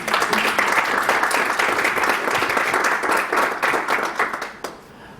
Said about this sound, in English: can you take an applause from me?